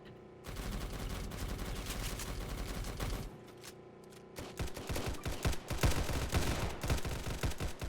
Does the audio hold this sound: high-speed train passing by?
no